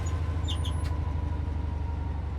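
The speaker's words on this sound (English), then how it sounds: "The squeaks and stuff on the power handle as well." Power handle on a Class 66 diesel locomotive in Train Simulator Classic gives a few brief high squeaks over a steady low cab engine drone, fairly quiet.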